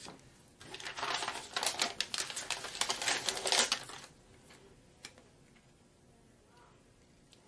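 A Xyron adhesive machine feeds pattern paper through with a rapid clicking, ratcheting rattle for several seconds, then stops, leaving quiet room tone.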